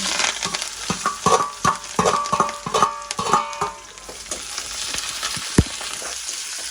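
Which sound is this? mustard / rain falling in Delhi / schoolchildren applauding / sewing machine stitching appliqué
mustard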